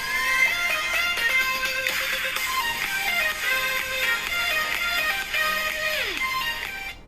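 A bright electronic ringtone audio file plays back on an iPhone, quick chiming notes stepping through a melody, ending with a falling glide.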